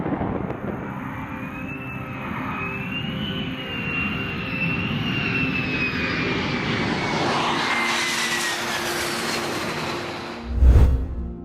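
An F-35 fighter jet roars past with a loud engine whine that rises and sweeps down as the aircraft passes, ending in a brief low rumbling burst.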